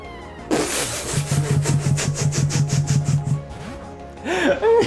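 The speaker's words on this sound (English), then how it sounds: "Let's hear how stupid Dialga's cry is again" Dialga's cry from the Pokemon Platinum video game: a short synthesized creature call with a rapid stuttering, buzzy pulse and a shrill upper tone, followed by a brief further burst, heard fairly close under light background.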